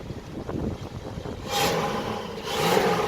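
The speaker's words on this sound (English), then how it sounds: "We'll listen to the rev." A 1965 Ford Mustang Fastback engine with a single exhaust idles low, then revs up twice in quick surges, each swell rising and settling back, heard close by.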